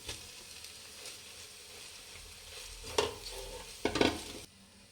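Egg and rice are stirred together in a hot frying pan under a soft, steady sizzle, with two sharper scraping strokes of the spatula standing out near the end.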